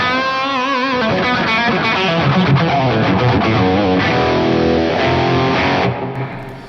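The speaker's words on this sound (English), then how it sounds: "Here's a little, like, a plate reverb, which should get a bigger reverb." Electric guitar chords and notes drenched in a broad plate reverb, loud and continuous, with the ringing tail fading at the end.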